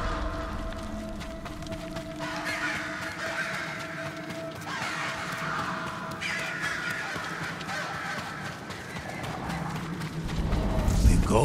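A large flock of crows cawing in the video game Ghost of Tsushima, rough caws scattered throughout over a dense, steady ambient wash, with a voice talking over them and a noisy swell at the end.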